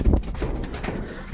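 A pair of Kamagar pigeons gives a brief, muffled, low coo at close range against a dull background rumble.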